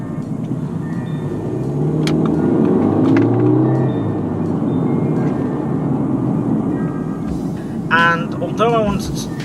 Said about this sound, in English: Oh, watch out, tons of cars, it's getting busier.